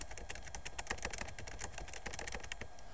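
Rapid typing on an Acer laptop keyboard captured by the built-in microphone, a quick irregular stream of sharp close clicks, faint overall and without speech.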